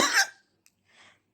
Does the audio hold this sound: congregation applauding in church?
no